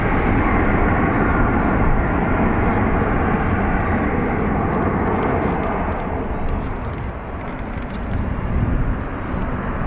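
An airliner departing Dublin Airport for Hamburg roars loudly and steadily at close range as its engines run up, with the broad rumble easing slightly toward the end.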